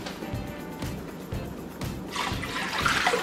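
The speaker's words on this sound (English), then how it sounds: "Pour in ice cold water." Ice cold water is poured into a brining solution for lechon pork in a home kitchen, a soft, continuous splashing pour that builds toward the end, with no talk over it.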